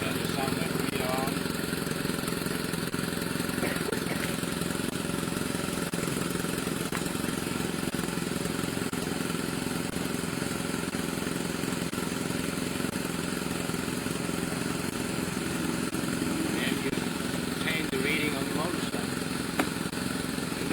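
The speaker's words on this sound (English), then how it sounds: "Normally you would let the motorcycle run for a couple of seconds and then you would turn the sound level meter on." A motorcycle engine runs steadily through a noise test, giving a continuous mid-pitched idle hum for about twenty seconds while someone talks over it.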